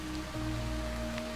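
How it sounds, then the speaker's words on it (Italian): Rain starts to fall during a hike near a lake, a steady soft patter with a low hum running underneath. "Comincia a piovere,"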